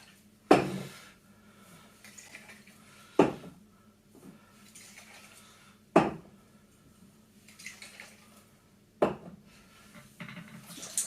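A jar of home brew with carbonation tablets at the bottom is shaken in a few separate goes, each a sharp glassy knock followed by faint sloshing, spaced a few seconds apart.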